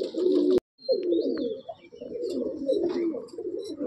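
Madrasi pigeons in a loft at Barasat give low, repeated cooing in overlapping bursts, close and fairly steady, with a short break near the start and a few higher chirps.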